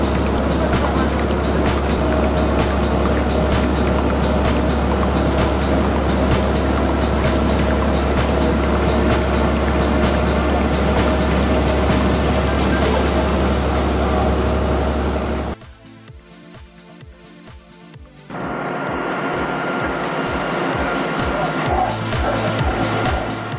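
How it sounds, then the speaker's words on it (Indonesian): Fishing boat engine approaching the harbour in Malta after a bluefin tuna catch, a loud steady low drone running continuously, cutting out briefly near the end before resuming. "Kapal penangkap ikan telah mendekat ke daratan di Kepulauan Malta."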